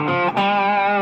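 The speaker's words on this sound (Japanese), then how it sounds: "TS9 っていうのはまあこういう音なんですけども" Electric guitar played through an Ibanez TS9 Tube Screamer overdrive pedal rings out as a loud, sustained, harmonically rich chord with mild distortion, briefly re-struck partway through.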